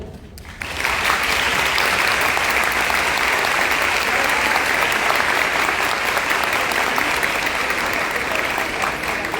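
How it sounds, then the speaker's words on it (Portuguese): Audience applause welcoming Antônio Serafim to a forensic psychology event, starting abruptly after a brief quiet moment and then holding loud and dense for several seconds before easing slightly at the end. "Com muita honra e com muitas palmas, eu gostaria que a gente recebesse o Serafim."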